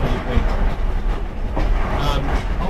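Passenger train rolling along the rails with open windows, a loud continuous rumble and rattle of carriages with faint rhythmic wheel clatter, heard from inside the car.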